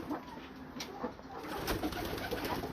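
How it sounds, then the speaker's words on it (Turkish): A homing pigeon coos softly in low, throaty bursts, repeating a few times against a light rustling background. "Bu posta kuşumuz."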